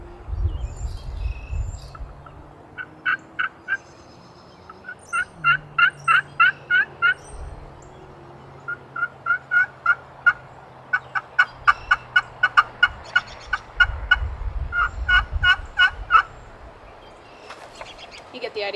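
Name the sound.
wooden turkey call imitating gobbles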